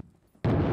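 Grenade explosion in the video game Six Days in Fallujah: after a brief near-silence, a sudden loud, broad blast erupts and holds, close and heavy.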